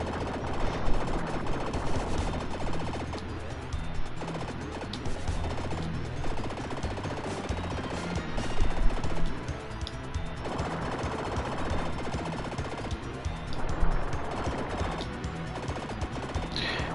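Weapons blasting away in the run-and-gun game Contra 3: The Alien Wars, a dense, steady rattle of rapid shots layered over busy game music and explosions for the whole stretch.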